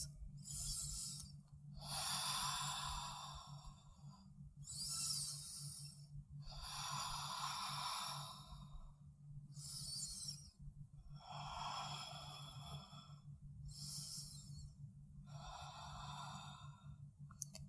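Slow, deep breaths during a seated yoga hamstring stretch come as long airy inhales and exhales. About seven breaths repeat in a steady rhythm, close by, over a constant low hum.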